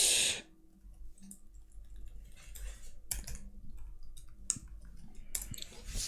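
A new password is typed on a computer keyboard in short bursts of soft clicking key presses, quiet and close, with no speech.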